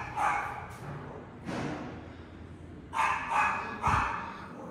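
A dog left alone inside a home barks in four or five separate bursts, each with a sharp onset, spread unevenly across several seconds with short quiet gaps between them.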